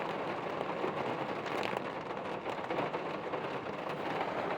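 Steady, heavy rain pours down during a Florida lightning storm, a dense continuous hiss with a faint low rumble of thunder beneath it, close and unbroken throughout.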